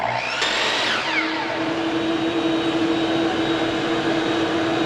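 A power saw with a laser guide spins up and cuts through a 2x4, giving a loud, steady, high motor whine with a falling tone at the start and an even grinding hum throughout.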